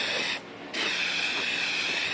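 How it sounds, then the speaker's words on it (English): Brake cleaner sprays onto the brake rotors of a 2008 Tahoe in a hissing aerosol burst that stops for a moment, then resumes and runs steadily to the end. "spray these down with brake clean to clean all that grease off"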